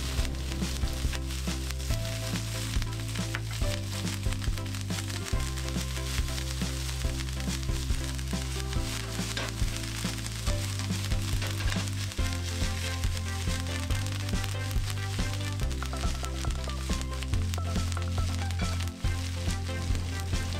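Tiger prawns fry in a pan with butter and herbs, crackling and sizzling steadily throughout over a low, stepping tonal background.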